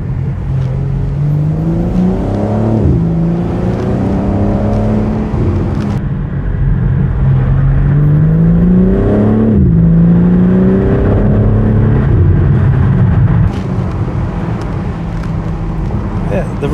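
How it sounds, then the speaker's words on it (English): A 2024 BMW M4 Competition Convertible xDrive engine drones and rises through gears as it accelerates, steady and fairly loud from inside the cabin, with a voice occasionally speaking over it. "just so you can enjoy the engine noise"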